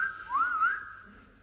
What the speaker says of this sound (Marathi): शिट्टी वाजवत घे.